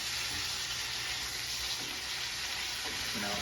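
Steak sizzles steadily in a hot pan while being basted, a continuous hissing, spitting frying noise at close range with faint clinks from utensils.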